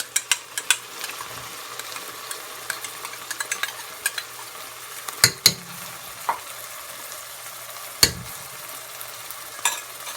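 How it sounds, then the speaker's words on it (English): Yogurt hitting fried meat for Kashmiri rista, a continuous low sizzle punctuated by sharp spoon clacks and scraping stirs against the pan, with a few louder knocks near the middle and end, no talking. "I will now add half a cup of yogurt"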